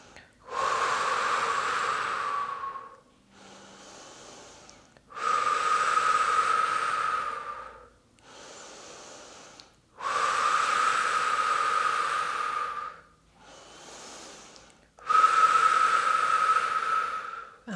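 Slow, deep yoga breaths alternate between long, loud, airy inhales lasting about two seconds and shorter, softer exhales, repeating four times close up in a quiet room.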